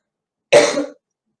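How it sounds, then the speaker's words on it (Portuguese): A single sharp adult cough, loud and close, rings out alone in an otherwise silent pause during a talk at an autism conference. "Tossi, mas não é coronavírus, tá?"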